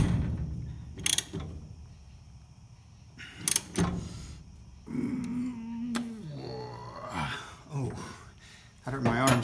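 Tightening the feeder bar chain on a New Holland baler brings clanks and ratchet-like mechanical clicks at irregular intervals, with someone talking between bursts and a dog audible nearby.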